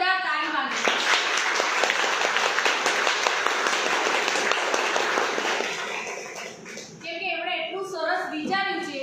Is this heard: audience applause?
yes